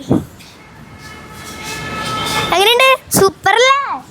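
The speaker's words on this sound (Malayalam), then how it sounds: "ഇതാ പച്ച ട്രെയിനില്ലേ അതിൻ്റെ ഉള്ളിൽ കൂടെ നമ്മൾ കയറിപ്പോട്ടാ" A green metro train at Lulu Mall runs with a steady rumble, its electric motor whining in rising and falling tones, while voices chatter nearby.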